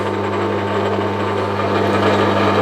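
Steady high-pitched machining whine with a constant hum as a Clarkson deadlock cutter has its end chamfered on a milling machine, loud and continuous throughout without any talk.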